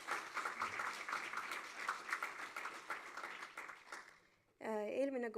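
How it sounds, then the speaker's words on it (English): An audience at the ESTO 2025 Global Estonians congress applauds Estonians abroad, with soft, distant clapping that fades over about four seconds before a voice begins speaking into the microphone. "I would like to have a round of applause to all the Estonians abroad who keep the Estonian flag flying"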